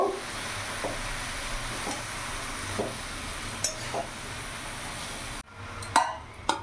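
A fish-head and spinach curry is stirred in a pan, with a steady soft sizzle and hiss under a few light spoon scrapes and clinks spaced a second or so apart, ending in a brief quieter moment and a couple of sharper knocks.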